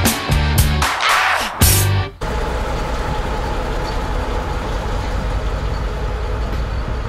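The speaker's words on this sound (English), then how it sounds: "Well, there goes the train." A couple of rhythmic clunks and rumbling bursts at the start as a train departs, giving way to a steady, broad rolling roar of rail traffic that carries on evenly.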